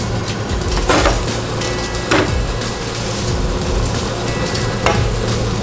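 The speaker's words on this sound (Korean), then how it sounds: "이 마늘을 아까 고기를 굽던 그 기름을 가지고 지금 사용을 하면서 굽고 있는 중입니다" Garlic frying in the leftover fat from grilling black pork, a steady close sizzle with a few sharper stirring scrapes and clicks over a low background hum.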